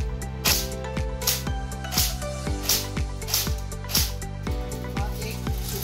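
A Lancer Tactical AK-47 airsoft AEG fires single shots, about a dozen sharp, evenly spaced cracks in a steady rhythm with a brief mechanical whir on each, close and fairly loud.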